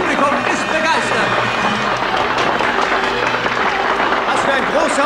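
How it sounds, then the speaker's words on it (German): A boxing audience cheers and applauds after a dramatic fight, a loud, dense wall of crowd noise with clapping and shouting that runs without a break throughout. "Das Publikum ist begeistert."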